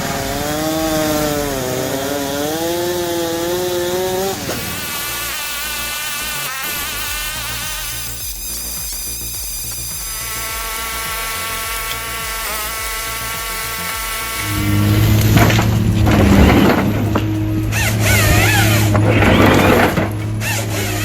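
An automatic firewood processor runs its chainsaw through logs with a loud, continuous buzzing whine that rises and dips in pitch as it bites in, joined by heavier mechanical clattering and rumbling in the final stretch.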